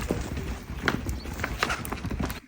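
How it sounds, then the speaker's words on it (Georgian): Several horses walk nearby, hooves clopping in an irregular, moderately loud rhythm of thuds, with no voices heard. "ესეც ჩვენი ცხენები"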